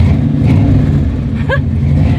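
A Mustang Eleanor engine rumbles loudly and steadily up close, its low drone rising slightly as the motor revs.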